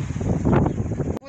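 Strong, cold north wind blows in off a stormy Black Sea onto a dirty shore, a steady heavy rumble buffeting the microphone for just over a second before it cuts off abruptly.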